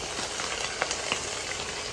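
Pork ribs frying in a pan give a dense, even sizzle, a steady close hiss with a few faint pops and no voices.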